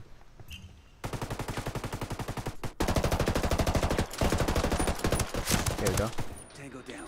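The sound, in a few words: gunfire from a video game, Ghost Recon Wildlands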